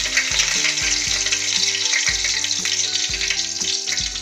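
Two bay leaves drop into hot oil in a pan and sizzle loudly and steadily, a dense close frying hiss with low rhythmic tones running beneath it and no speech.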